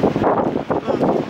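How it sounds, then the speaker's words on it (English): Strong wind buffets a microphone outdoors at a campsite, rumbling in loud, uneven gusts throughout. "It's so windy"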